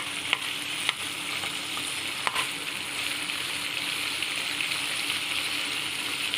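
Green chicken tikka fries in a pan with a steady, fairly loud sizzle and crackle throughout, broken by a few sharp clicks as the pieces are turned, and no talking.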